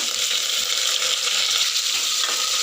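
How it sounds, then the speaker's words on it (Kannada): Chopped onions, green chillies and curry leaves fry in a pan with a bright, continuous hiss and crackle that stays close and steady, with faint scraping from stirring. "ನೋಡಿ ಈ ಥರ ಫ್ರೈ ಮಾಡ್ಕೋಬೇಕು ಇವಾಗ ಫ್ರೈ ಆಗ್ತಾ ಇದ್ದೇನೆ"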